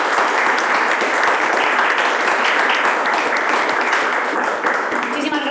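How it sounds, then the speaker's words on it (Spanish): Sustained, dense applause from a live audience for speakers at a startup financing panel event, steady and loud throughout with scattered claps. "Pido un fortísimo aplauso para ellos"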